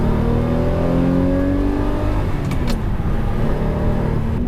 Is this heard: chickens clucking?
no